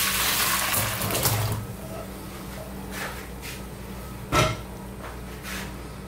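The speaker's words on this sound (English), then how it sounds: "What we're going to do now, we're going to drain them off." Boiled potatoes drained off for roasting, water pouring and splashing loudly at first, then a quieter wet trickle with a brief sharp knock of a pan near the end.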